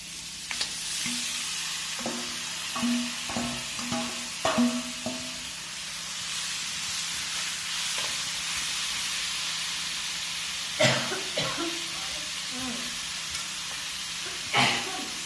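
Seasoned goat meat with pimento berries, pepper, turmeric and curry powder sizzles steadily in a pot, a constant close frying hiss with intermittent stirring clatters and scrapes of a spoon.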